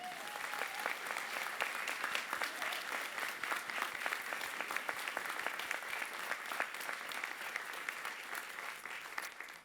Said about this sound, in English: my notes now call for a raucous applause from the audience